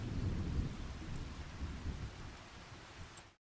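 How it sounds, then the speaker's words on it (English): In Farming Simulator 25, a hail and rain storm rumbles with low thunder under a steady wash of falling rain, moderately quiet and continuous before cutting off abruptly. "Sounded like hail anyway."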